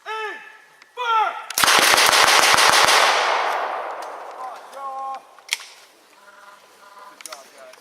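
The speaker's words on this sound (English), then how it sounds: "Ready? Aim! Fire!" Rifle volley fire at a historical ride reenactment: shouted commands, then one loud near volley with clattering shots and echoes, followed by talk and shouts.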